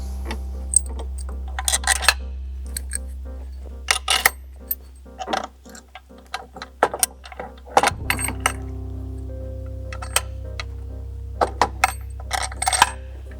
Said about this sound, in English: We're gonna set the winch up here, and then we'll drop our factory bolts back in.